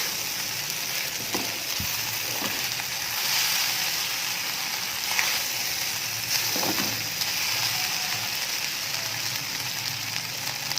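Vegetable fried rice sizzles steadily in a pan, a soft continuous frying hiss broken by a few light scraping and stirring sounds, fairly quiet with no talking.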